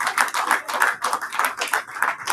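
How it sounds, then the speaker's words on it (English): A small group at a school district board of trustees meeting claps together, fairly close, in quick, steady bursts that run through the short stretch without pause. "Let's give them one more round of applause"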